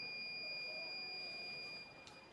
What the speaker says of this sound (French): si l'appareil se met à sonner, c'est qu'il y a de la contamination qui a été localisée